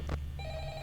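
A telephone rings in the video game Five Nights at Freddy's: a brief, faint ring tone.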